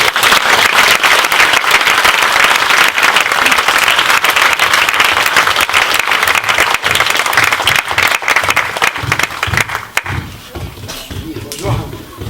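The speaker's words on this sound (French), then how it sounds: "et on applaudit Mehdi, qui arrive." An audience at a karate school demonstration in Vertou applauds as the world champion karateka Mehdi arrives, dense steady clapping filling the room for about ten seconds before it thins out and tails off into scattered claps.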